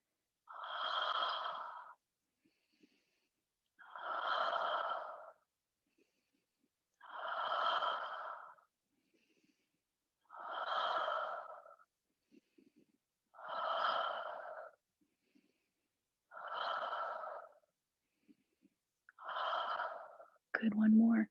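Seven slow, steady exhales during a yoga exercise, each a breathy whoosh of about two seconds with a short pause between, close and soft, no talking, ending on a brief sharper breath.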